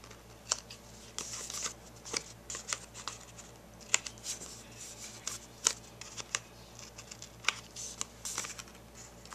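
Scissors trim cardstock for a handmade card, making faint, close, irregular snips and paper rustles against a low steady hum.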